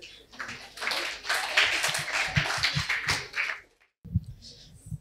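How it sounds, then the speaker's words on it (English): Short round of clapping from a small audience at a personality development session, a few seconds of scattered hand claps that stop abruptly, then a couple of low taps and thumps. "Round of applause."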